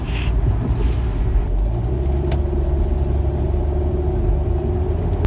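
A Mercedes 280 TE wagon rolls through Bangkok rush hour traffic, its engine a steady low rumble under constant road noise, heard from inside the car with a brief higher tone partway through.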